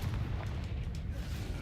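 Confringo fire spell blast in Hogwarts Legacy, a deep rumbling boom with low crackling impact and scattered bursts, loud and continuous through the brief moment amid game combat sounds.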